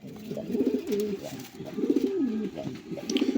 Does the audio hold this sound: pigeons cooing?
yes